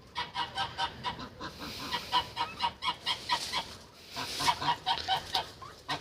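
A flock of geese honking repeatedly and rhythmically, close by, calls overlapping as the birds approach together.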